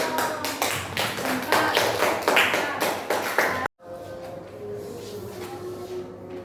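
A classroom claps in quick rhythmic bursts during a teaching session, a patterned series of claps that stops abruptly, followed by a quieter room tone.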